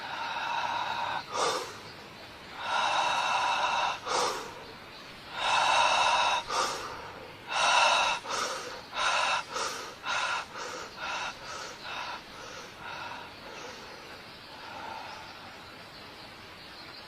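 A person does an accelerating breathing exercise, loud, close, forceful inhales and exhales in bursts that grow faster and shorter toward the end, with no talking.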